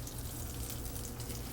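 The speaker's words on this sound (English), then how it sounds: "when the butter is bubbling, you think the pan is hot enough to put the swordfish?" Butter bubbling and sizzling in a hot pan just before swordfish goes in, a steady close crackling hiss without pause.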